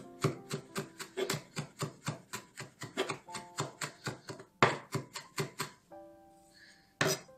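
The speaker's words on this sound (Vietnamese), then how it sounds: "Rồi mình cũng sẽ băm nhuyễn nó ra luôn nha." Chili peppers are finely minced with a knife on a cutting board in a home kitchen, a steady rhythm of quick, crisp chops close by. A few clatters of a pan or plate come near the end, with no talking.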